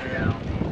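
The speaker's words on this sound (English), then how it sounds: "A little windy today." Steady wind buffeting an outdoor microphone in Denali National Park, Alaska, a low rumbling roar with gusty swells and no speech.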